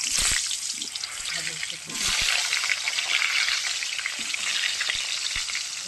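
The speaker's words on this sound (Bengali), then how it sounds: "বন্ধুরা, এবার আমি আলুটা ভেজে নেব" Potatoes fry in a pan, giving a dense, continuous sizzle with a few soft clinks and a brief surge partway through; a voice may be faintly present underneath.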